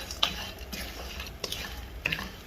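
Sugar being stirred in a pan for salted butter caramel, with soft scraping strokes and a few light clinks of utensil on metal over a faint, steady background hiss.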